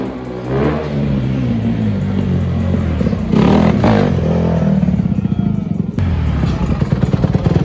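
A Honda CRF150R dirt bike's engine is blipped and revved hard nearby, loud buzzy rising and falling pitch with a quick throttle stab midway, then a rapid chattering idle-to-rev pulse; faint voices sit underneath.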